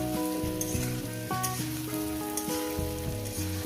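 Ginger paste and spices fry in a pan for a spinach curry, with a constant hissing sizzle running under a melodic music track. No voices.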